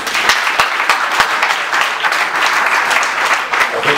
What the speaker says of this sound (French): Si vous pouvez l'applaudir quand même.